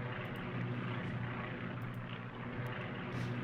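Steady droning hum of World War 1 aircraft engines in the Strategic Command strategy game, a continuous propeller buzz at even loudness with no talk over it.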